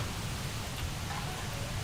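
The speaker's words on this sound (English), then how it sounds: "so we're going to have to get the sand on." A locomotive sander putting sand on the rails to climb a gradient on the 1950s Riviera Line in Train Simulator, heard as a steady, loud, broadband hiss that holds evenly throughout the short moment, with no voices.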